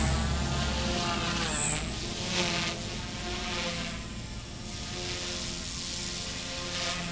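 A Blade 150s RC helicopter in flight, a steady whining rotor drone with a thin high-pitched tone that rises and dips slightly, continuous and moderately loud, no talking.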